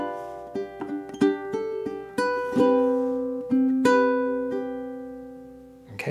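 Acoustic guitar fingerpicking etude bar played slowly and cleanly, single plucked notes and ringing bass strings spaced out one by one, with an occasional harder pluck.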